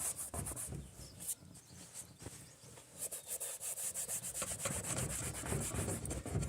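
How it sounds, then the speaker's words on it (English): A rag soaked in dye rubbed back and forth over textured roof trim, a steady close scrubbing in quick rhythmic strokes with no voices. "And then we'll just rub it on here."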